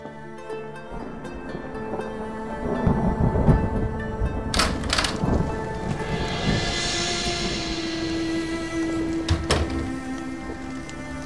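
Thunderstorm with heavy rain in a TV drama scene, a steady wash of rainfall under a low rumble, broken by a few sharp cracks and a long rolling swell of thunder in the middle.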